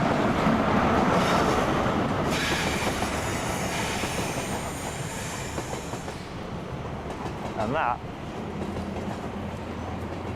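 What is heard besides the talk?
train departing from station after dispatch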